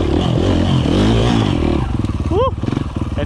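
Four-stroke motorcycle engine rumbling loudly and steadily up close as the bike crosses an obstacle, with clattering and scraping over the idle-to-mid revs and a brief rising whine near the end.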